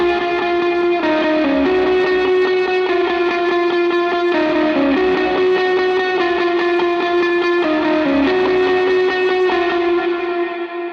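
An electric guitar plays a riff in driving double-time eighth notes through distortion, chorus and echo effects, a loud, sustained and steady pattern with shifting pitches and no talking.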